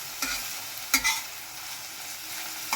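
Onions sizzle steadily in a frying pan as they are stirred, with a few sharp scraping strokes of the spoon standing out over the continuous close hiss.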